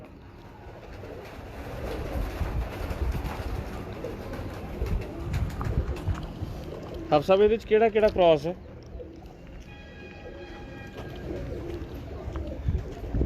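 Pigeons cooing on a rooftop loft, a short run of rhythmic coos standing out over ambient noise while people talk nearby.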